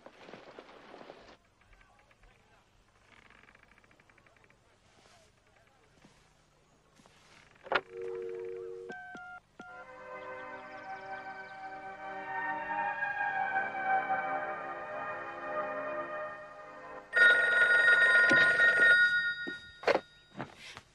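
A telephone in a thriller scene rings, with a brief dialing-like tone sequence followed by a sustained, loud ringing burst near the end, all without speech.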